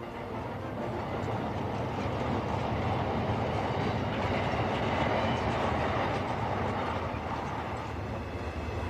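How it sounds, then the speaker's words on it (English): An armoured train carrying soldiers on patrol along a railway line rumbles steadily with a dense, continuous roar and faint clickety-clack of wheels, loud and unbroken throughout. "an armoured train with 150 British soldiers on board set off on patrol along this railway line"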